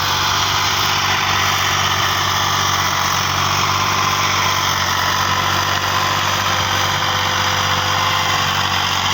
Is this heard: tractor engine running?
yes